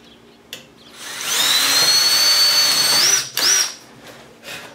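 A power drill enlarges pre-drilled holes while installing root rib braces, giving a loud, steady high whine for about two seconds that dips and restarts in two short bursts, with no voices.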